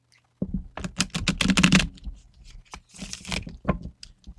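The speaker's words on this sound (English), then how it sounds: "they don't want to shuffle" Tarot cards being shuffled by hand, a rapid run of dry riffling and slapping bursts that starts abruptly, swells in the middle, then continues in shorter flurries, close and fairly loud with no talking.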